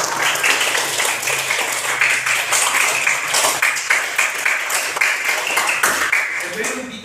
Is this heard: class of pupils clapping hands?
yes